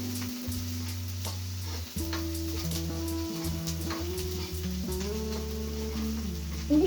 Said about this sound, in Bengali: একটু লাল লাল করে ভেজে নেওয়া হচ্ছে।